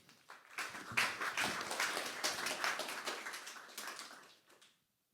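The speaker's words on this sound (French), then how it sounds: "On peut les applaudir encore une fois." A conference audience at a Paris deep-tech event applauds, a faint, moderately dense patter of hand claps that swells near the start and tapers off to silence.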